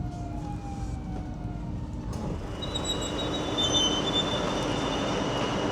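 A train pulls into Amsterdam Sloterdijk station with a loud rumble and high metallic wheel squeals that rise and hold over steady track noise.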